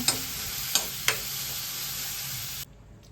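Chilies, onion, tomato and coconut sauté in a pan with a steady close sizzle, three short scraping stirs near the start, then the frying cuts off abruptly toward the end, leaving near quiet.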